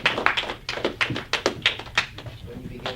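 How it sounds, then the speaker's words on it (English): A small audience at a school debate gives a round of scattered, uneven hand claps, sharp and fairly close, thinning out toward the end. "Give them a round of applause"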